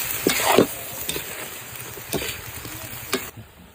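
Pechay stalks and long chili get stir-fried in a pan, a soft sizzle broken by a few scraping, clattering strokes of the spatula, close and fairly quiet.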